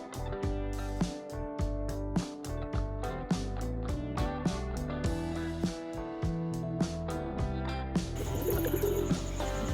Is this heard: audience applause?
no